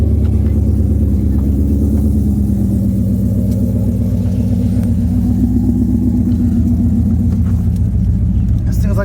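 A Ford Mustang S197 5.0, naturally aspirated with full bolt-ons, rumbles loudly and steadily from inside the cabin while cruising, its deep low drone continuous throughout with no talking.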